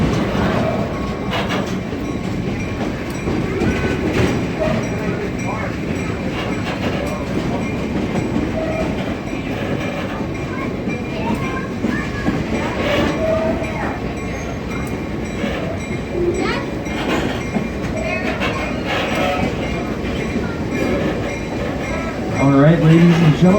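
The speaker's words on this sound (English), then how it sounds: "we are now slowly pulling back into the train depot in the end of our journey" A sightseeing mountain train rumbles steadily along the tracks toward its depot with a continuous clatter and occasional faint squeals, while voices talk quietly over the noise.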